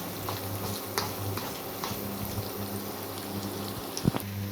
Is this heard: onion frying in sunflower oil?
yes